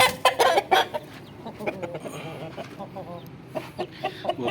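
A newly bought rooster and hen squabble up close, with sharp bursts of agitated clucking and squawks coming in quick irregular flurries, then settling into quieter grumbling calls.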